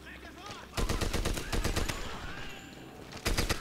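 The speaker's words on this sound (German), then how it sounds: "Ein verdammtes MG schon wieder." Bursts of rapid machine gun fire from an MG in the World War II shooter Medal of Honor: Airborne, loud and close, starting after a brief quiet stretch and breaking off before a final short burst.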